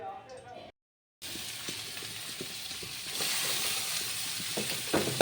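Oil frying in a hot kadai produces a low, steady sizzle with small clicking stirs, starting after a brief silent gap and growing fuller and louder over the final seconds.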